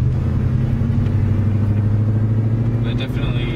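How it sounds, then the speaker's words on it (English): Truck engine fitted with a Volant performance intake, a steady deep rumbling idle held loud and close throughout, with a faint high whine entering near the end. "it definitely has a better engine sound to it"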